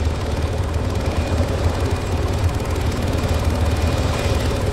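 A helicopter in the military video game ArmA 3 drones steadily and loudly with a dense rotor and turbine roar that holds constant throughout, without any talk.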